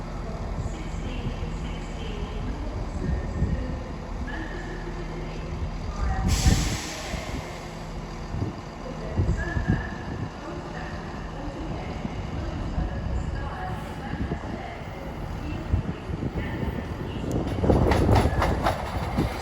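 A London Northwestern Railway train rumbles at Crewe station, with steady engine drone, air-brake hiss and rail clatter, while a station announcement and distant voices carry over the platform noise.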